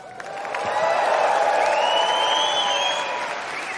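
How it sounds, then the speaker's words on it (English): An audience at the Viva Technology conference in Paris breaks into sustained applause and cheering, with loud hand clapping and scattered whoops and whistles that swell quickly and then ease slightly toward the end. "Make some noise."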